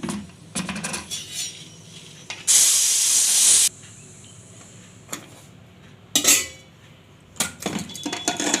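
A pressure cooker of boiled chana comes off a gas stove after one whistle, with a short burst of loud steam hiss amid metallic clanks and knocks of the pot being handled.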